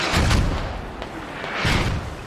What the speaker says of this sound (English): Too bad the mortars aren't gonna kill anyone because they're all falling back.